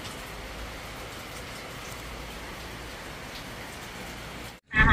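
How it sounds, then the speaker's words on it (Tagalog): Sudden heavy downpour hisses steadily and densely on surfaces close by, a continuous wash of rain that cuts out briefly near the end before another loud burst. "Biglang buhos ng ulan."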